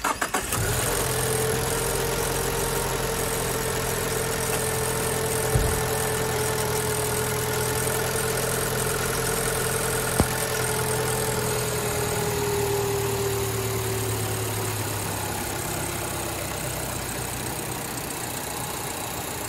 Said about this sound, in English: we're ready to start the engine to make sure that everything is in order